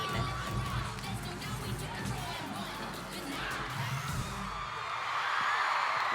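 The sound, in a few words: cheerleading competition crowd cheering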